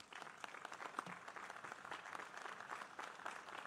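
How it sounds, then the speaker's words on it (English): University commencement crowd applauding for a staff member, a steady, faint wash of many hands clapping from a distance with no break. "Let's give Carl a round of applause."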